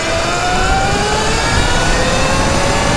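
A 72v Sur Ron electric motorcycle accelerates hard, making a loud, steady whine that climbs slowly in pitch over heavy wind roar, with no talking.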